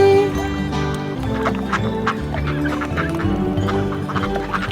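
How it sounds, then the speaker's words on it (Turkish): An upbeat Turkish children's song about little ducks plays with duck-like quacking sounds mixed in, bright and continuous throughout. "Anne ördek dedi vak vak vak"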